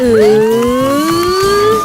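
A toy fire engine siren wails close and loud, its pitch sweeping up and down in a continuous electronic tone.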